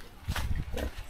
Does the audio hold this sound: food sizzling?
no